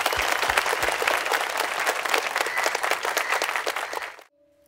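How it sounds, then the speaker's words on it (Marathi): Loud, dense applause from a crowd at a felicitation ceremony, steady for about four seconds before cutting off abruptly, leaving a faint hum. "वाजवा रे टाळ्या"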